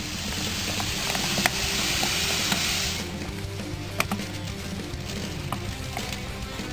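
Roughly 2.5 kg of sugar poured into 26 litres of grape juice for homemade wine, a loud, even granular hiss lasting about three seconds, then quieter scattered clicks and taps.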